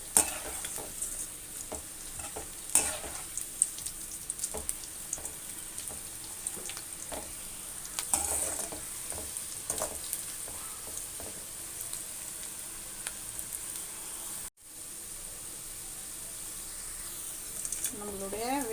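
Cabbage and carrot pakoda batter crackles and sizzles steadily in hot oil close by, with occasional stirring clinks and a voice talking over it.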